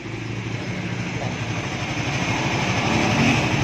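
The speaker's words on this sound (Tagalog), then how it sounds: "Ito na yung tunog ng makina ni Sir." A Suzuki Raider 150 Fi motorcycle engine idles after a valve shim replacement with a steady, even rumble, close and fairly loud, holding constant throughout.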